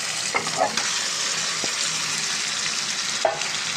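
Chicken pieces frying in a pan with tomato, ginger and garlic paste and green chilies, giving a loud, steady close sizzle with a few brief stirring scrapes and clicks, and no voices.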